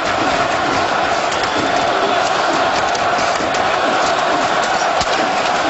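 An NHL playoff crowd at the New York Rangers versus Montreal Canadiens Game 2 in May 2014 roars in a loud, dense, continuous wash of spontaneous cheering and shouting, unbroken throughout.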